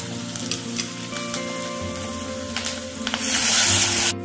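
Tempering vadagam sizzles as it drops into hot sesame oil for a tamarind gravy, a crackling fry that swells into a loud hissing burst near the end.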